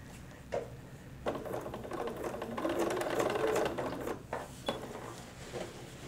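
A sewing machine stitching around a pillow edged with heavy cording runs in quick mechanical bursts, a close, whirring clatter of needle and gears with short pauses between runs.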